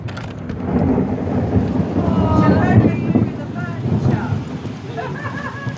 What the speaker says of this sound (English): Yeah, got some serious weather coming in. Thunder and lightning.